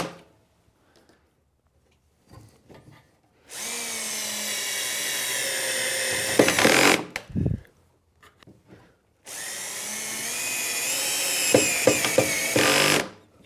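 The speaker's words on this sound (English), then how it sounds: "And then we'll just put in our pocket screws." A power drill drives pocket screws into the frame of a wooden bath vanity, giving two long, loud, close whining runs of about three seconds each with a quiet pause and clunks between them.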